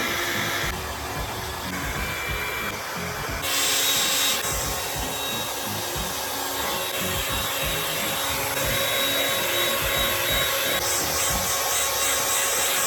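A hot air brush dries hair with a loud, continuous blowing roar and bristle rubbing, and its tone shifts a little as it changes setting.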